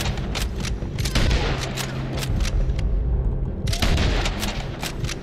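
Rapid, repeated gunfire from a Red Dead Redemption 2 shootout, loud booming shots overlapping one another in dense bursts, with a brief lull before the firing picks up again.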